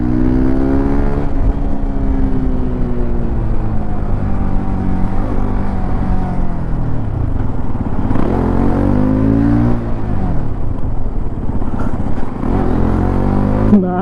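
Hero XPulse 210 motorcycle, a 2025 model 210cc off-road bike, ridden off-road: a loud, close engine drone rising and falling with throttle changes, revving up around the middle, with no talk.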